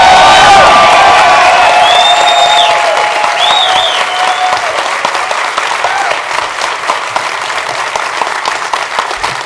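Sustained crowd clapping with cheers and high whistles, loud and continuous at first and then slowly thinning, rises from the audience at Major League Soccer's expansion celebration for Minnesota United FC.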